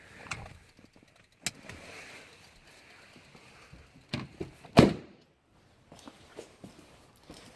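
A Ford vehicle door slams shut with a single solid thunk, preceded by faint key jingles and light rustling, then quieter cabin sounds.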